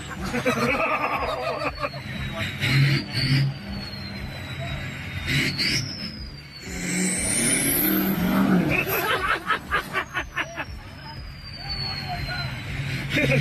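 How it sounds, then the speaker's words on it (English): A pickup truck engine revs and roars repeatedly in surging bursts as it powers through a recovery flip under streetlights, with rising whines, amid crowd chatter and background noise. "Pickup truck powers through a recovery flip using raw engine force"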